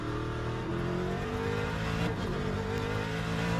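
Steady, loud GT3 race car engine from an Aston Martin in the Le Mans Ultimate racing sim, a continuous layered drone that holds and slightly rises with throttle, alone and close.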